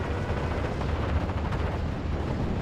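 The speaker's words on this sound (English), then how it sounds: "ME109 still strafing the same place." Dense, continuous gunfire and strafing from a fighter plane in a World War II Normandy strategy game, a rumbling barrage of overlapping shots with no pauses.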